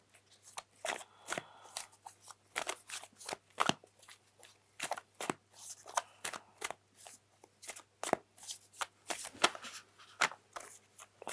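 Playing cards are shuffled repeatedly, crisp riffling bursts and snaps coming in a quick, irregular rhythm, close and clear with no talking.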